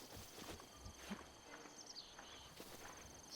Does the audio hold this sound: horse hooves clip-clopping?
yes